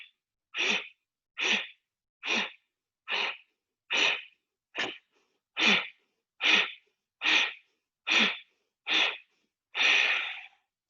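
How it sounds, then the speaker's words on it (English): Twelve forceful Ujjayi breaths, pulsed exhalations during a yoga abdominal exercise, come in a steady rhythm about one per second. Each is a close, hissing breath with silence between them, and the final one is longer. "pulse for 16 with Ujjayi breathing"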